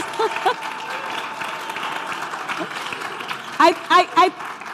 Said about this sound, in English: give them a really, really big round of applause